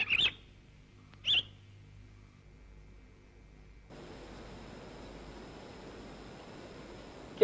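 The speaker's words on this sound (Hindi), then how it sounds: "देख कितनी सुंदर चिड़िया।" Bird song in a forest: two short, bright chirps close together near the start, then a steady hiss of background noise with no further calls.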